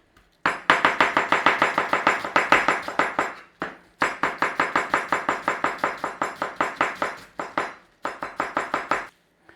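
Cabbage thinly sliced with a knife on a chopping board, loud rapid rhythmic chops in three long close bursts separated by brief pauses.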